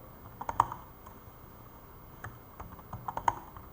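Keystrokes on a computer keyboard come in two short bursts of clicky typing, close and moderately quiet, with a pause between them.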